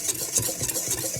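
Dry pumpkin pancake ingredients with cinnamon and pumpkin spice are stirred in a bowl, giving a soft, rhythmic, close swishing and scraping over about a second, with no voice.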